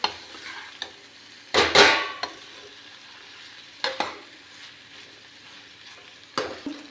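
Cowpea pods and potatoes cooking into a sabzi in a pan: a few sharp spatula scrapes and clatters at irregular intervals, the loudest burst early on, over a faint, steady sizzle with no talking.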